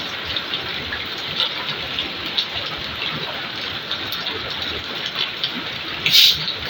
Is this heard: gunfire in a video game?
no